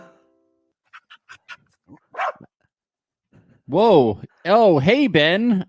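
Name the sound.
dog barking during a podcast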